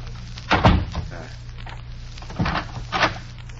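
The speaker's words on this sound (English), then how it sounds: "I will close the door." A heavy door in a 1942 radio mystery drama is pushed shut with a loud thunk, followed by two softer knocks as it is latched and locked, set against a steady low hum.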